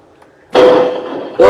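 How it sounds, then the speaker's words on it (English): Truck crashing and flipping over after leaving a roundabout in Euro Truck Simulator 2: a loud sudden impact lands after a faint lead-in, followed by a sustained grinding scrape and a second hard hit at the end. "I just flipped the whole truck over"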